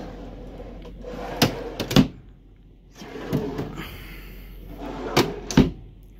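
Long drawers in a 2006 Beaver Marquis Jade IV motorhome kitchen roll open and shut on their slides, each pass ending in sharp knocks, repeated three times close by with no talk.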